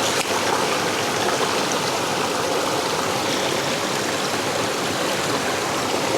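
A river stream flows close by in a rural outdoor setting, a loud, steady, unbroken rush of water throughout with no voices.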